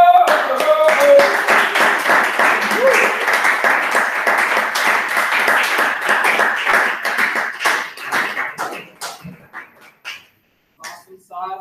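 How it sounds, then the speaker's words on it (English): Audience applause at an information session in Tallahassee, loud dense clapping from a roomful of people that thins out and fades into scattered claps and near silence toward the end, with a few voices mixed in. "Give another round of applause for Miss C. Lane."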